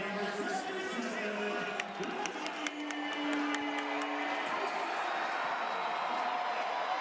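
Soccer stadium crowd at a Tampa Bay Rowdies versus Pittsburgh Riverhounds match, a broad steady roar of many voices heard from afar, with a commentator speaking over it.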